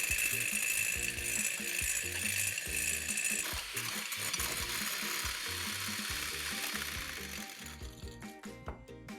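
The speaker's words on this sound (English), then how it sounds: "We begin whipping." Rapid clicking and whirring of a whisk beating eggless macaron mixture with caster sugar, a steady mechanical rhythm running close and loud throughout, easing slightly near the end.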